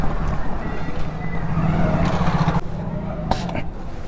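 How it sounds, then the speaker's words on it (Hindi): A scooter rides off through a posh Delhi neighbourhood, its engine and road noise rumbling steadily under a mix of wind and traffic sound, with a sharp brief clack near the end. "तो अब अपने स्कूटर को लेके निकल चुका हूँ मैं"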